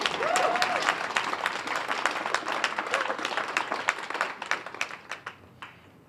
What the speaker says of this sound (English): Yes, clap on that.